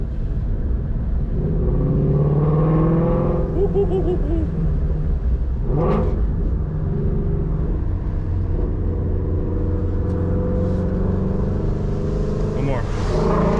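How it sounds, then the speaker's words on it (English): A 2019 Ford Mustang Shelby GT350 idles with a deep, steady exhaust rumble, rising in a few short revs near the end, with someone talking over it. "Let's get some raw exhaust noise."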